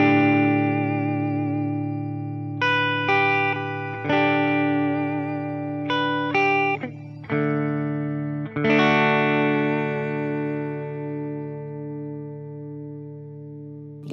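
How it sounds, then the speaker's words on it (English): An electric guitar through a Fender Tone Master Pro shimmer reverb rings out in sustained chords and single notes, each one swelling into a long, bright, shimmering wash that lingers, loud and alone. "And we're wrapping it up with the Shimmer Reverb."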